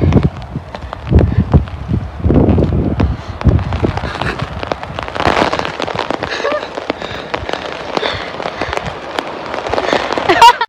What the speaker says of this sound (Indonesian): kuat anginnya